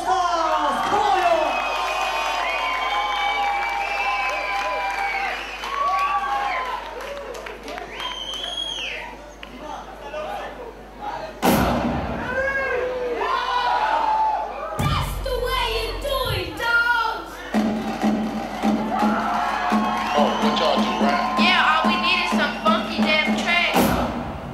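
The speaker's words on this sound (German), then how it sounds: "einen großen Applaus geben für die Beat and Allstars" Crowd at a breakdance battle event cheers and claps loudly for a dance crew, bursts of applause and shouts swelling in a big hall over continuous noise, with a presenter's voice speaking over parts.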